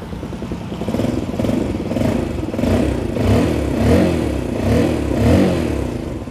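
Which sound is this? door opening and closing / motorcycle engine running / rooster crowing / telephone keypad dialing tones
motorcycle engine running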